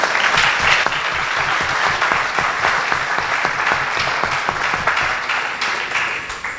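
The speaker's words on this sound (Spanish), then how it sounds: "Recibámoslo con un fuerte aplauso" A crowd at a talk applauds continuously to welcome a speaker, dense clapping holding steady for several seconds before easing slightly toward the end.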